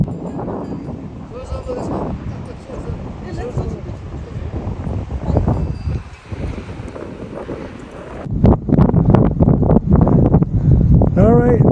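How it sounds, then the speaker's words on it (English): Strong wind buffets the microphone in a steady roar high on a mountain in the Tsum Valley, Nepal, with a person talking over it throughout. "Super windy up here."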